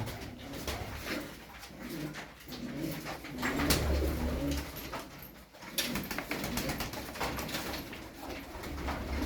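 Pigeons coo steadily and close, layered soft calls overlapping with some rustling and background noise throughout.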